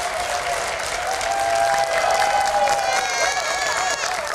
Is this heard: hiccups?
no